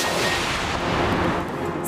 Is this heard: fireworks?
yes